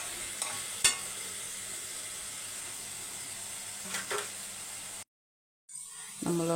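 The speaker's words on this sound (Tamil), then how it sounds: "நம்மளோட தக்காளி குழம்பு நல்லா கொதிச்சு வருது." Tomato curry (thakkali kuzhambu) bubbling steadily in a pan, a continuous soft sizzle with a few sharper pops and stirring clicks, then a brief drop to silence before the simmer returns louder.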